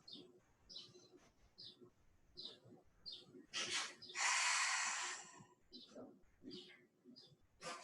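Deep breathing during a slow morning yoga flow: a forceful inhale through the nose followed by a long, loud exhale through the mouth, close to the ear, with quieter breaths and soft movement around it.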